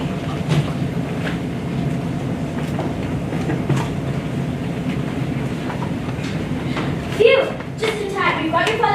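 A train ride rumbles continuously from inside the carriage, a dense steady roar with faint rhythmic clatter, while people talk and a brief mechanical clunk sounds near the end.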